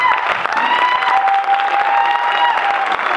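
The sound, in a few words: audience applause at a concert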